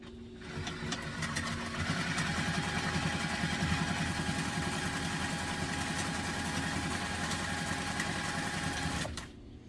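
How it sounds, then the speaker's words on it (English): A sewing machine runs steadily for about nine seconds, stitching an elastic casing on a fabric teddy-style mommy-and-me backpack, a continuous close mechanical whir that stops abruptly at the end; no one speaks. "And then I'm going to sew along that line."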